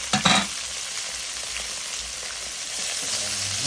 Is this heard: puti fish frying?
yes